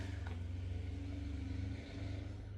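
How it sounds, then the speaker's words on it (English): A car passes outside on a morning street, a steady low engine drone that holds loud for under two seconds then drops off as it moves away, with no talk over it. "loud car."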